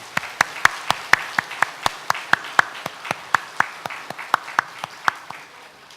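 A church congregation gives a burst of applause during a Sunday worship service, about twenty sharp, fairly even claps in a steady rhythm. The clapping is close and clear, with no talking over it.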